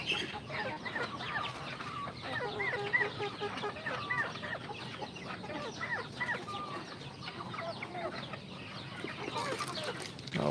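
A flock of chickens clucks and squabbles while being fed, a busy layered chorus of short clucks and squawks at close range over a soft outdoor background.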